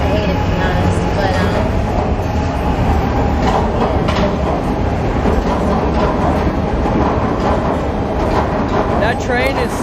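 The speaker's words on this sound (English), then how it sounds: "That train is so loud." Loud, continuous rumble and clatter of a passing train fills the whole stretch, steady and close, with a voice talking over it.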